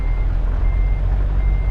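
Truck reversing alarm in Euro Truck Simulator 2, a steady repeating beep held over a loud low engine rumble and rain, with no talk.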